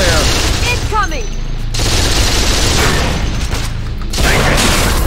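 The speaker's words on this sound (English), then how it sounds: "I'm taking heavy fire." Heavy gunfire in Unreal Tournament 3, during a capture-the-flag match on The Crucible: a loud, dense burst of rapid shots and blasts with whizzing projectiles, then a second volley, with an in-game announcer voice over the action.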